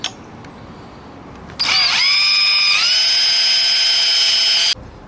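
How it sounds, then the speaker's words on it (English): A power drill whines loudly for about three seconds, its pitch dipping then rising and holding steady before it stops abruptly. "now I'm gonna drill them out here"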